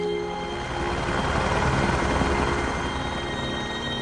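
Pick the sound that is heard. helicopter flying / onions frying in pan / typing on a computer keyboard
helicopter flying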